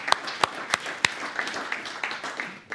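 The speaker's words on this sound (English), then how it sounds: "Let's give a big applause to the hosts." Scattered clapping from a small audience at a San Francisco developer meetup, with a few sharp, separate claps spaced evenly at first and then a softer ripple of hands.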